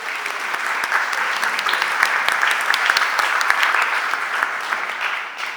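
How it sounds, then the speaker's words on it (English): Applause fills a Philadelphia City Council stated meeting chamber, many hands clapping in a dense, lively burst with sharp individual claps standing out, holding steady before easing slightly at the end. "Please give them another round of applause."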